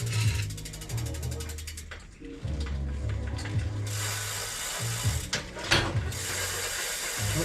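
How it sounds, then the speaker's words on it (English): A spinning wheel on a cheap Y2K Dyno GT BMX, its underinflated tyre rubbing as it turns, gives a steady ratcheting, scraping whir with repeated low rubbing pulses. It is close and continuous, with no voices. "A little bit of tyre rub."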